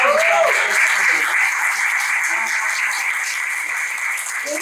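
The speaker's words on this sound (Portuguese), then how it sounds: "A salva de palmas para essa mulher." Applause greets a woman called up onto a stage at a live Brazilian event, a dense, steady crowd clapping that stays loud and even throughout, with a brief voice at the very start.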